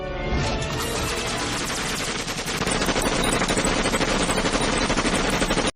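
Rapid, continuous bursts of gunfire as Clamps and Joey shoot, loud and dense throughout like sustained automatic fire, with a slight dip midway before it resumes and then cuts off abruptly.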